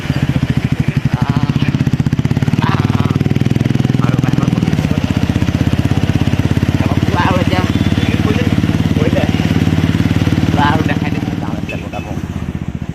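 A motorcycle engine drones steadily and loudly throughout while riding, with a constant rumbling putter and faint voices now and then beneath it.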